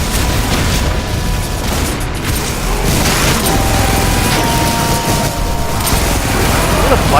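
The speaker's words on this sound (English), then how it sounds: "I can't even see where the hell that guy's shooting at me from" Constant loud gunfire and booming explosions from Brutal Doom with the Project Brutality mod, a dense, unbroken wall of shots and blasts lasting about seven seconds.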